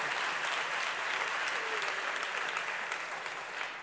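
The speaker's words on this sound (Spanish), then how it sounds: "pedir un fuertísimo aplauso para reconocer un trabajo más que bien hecho" Sustained audience applause fills a conference hall during a branding and technology talk, a dense, steady wash of many hands clapping at even loudness throughout.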